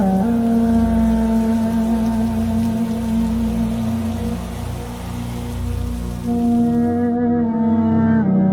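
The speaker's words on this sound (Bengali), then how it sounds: "অমনি ঝমঝমিয়ে বৃষ্টি নামলো এই" Heavy rain pours steadily as a dense continuous wash, with a sustained droning musical tone layered over it and a brief gap near the end, in an eerie horror-story setting.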